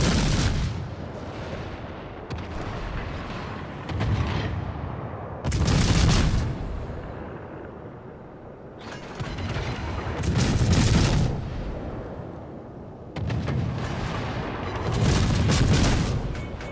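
Naval gunfire aimed at an enemy destroyer in a warship video game, heard as repeated heavy booming salvos in roughly rhythmic bursts, loud and close over a constant rumbling background with no speech.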